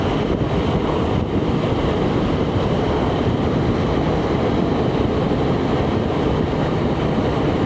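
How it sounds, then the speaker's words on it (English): Steady, heavy wind roars and buffets the microphone without a break while riding a BMW K1600 GTL motorcycle in New Mexico, a dense low rumble filling the whole stretch with no voices. "the wind's blowing pretty good here"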